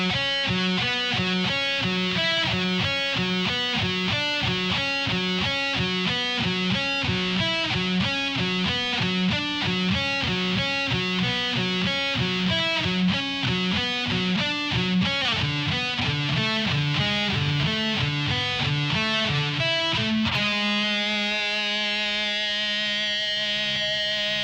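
Distorted electric guitar plays a slow, repeating riff of evenly spaced picked notes cycling through a pattern, ending on a sustained ringing chord, alone with no talking.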